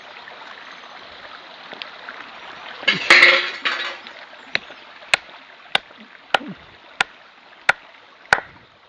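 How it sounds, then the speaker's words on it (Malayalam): Beef rib pieces are chopped into small bits for frying, first some handling noise, then about seven sharp, evenly spaced chopping strikes with a regular rhythm, close by and clear, with no talking. "അതൊന്ന് വെട്ടി ചെറിയൊരു പീസാക്കി എടുക്കാം"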